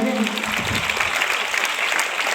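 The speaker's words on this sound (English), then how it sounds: "Let's clap for them." Students at a school assembly applaud together, a dense, steady burst of clapping from a room full of children with a few voices mixed in.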